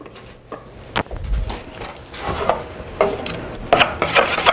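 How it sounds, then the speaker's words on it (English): Stirring a cream cheese and condensed milk mixture into banana pudding, giving soft scraping and sloshing with occasional utensil clicks against the bowl, close by and steady, with no talking. "And now we're going to add our mixture of cream cheese and condensed milk."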